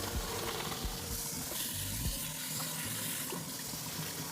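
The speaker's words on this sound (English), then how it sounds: "I'm gonna go ahead and turn this water on so it's gonna get a little noisy" Water from a tap runs steadily into a pot, a continuous splashing hiss close by with occasional clunks.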